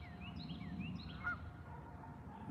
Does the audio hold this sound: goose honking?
yes